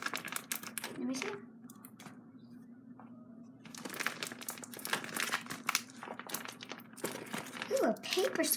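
A homemade paper squishy fidget crinkles and crackles as it is handled up close, in bursts of crisp rustling separated by a quieter pause, with a voice talking over parts of it.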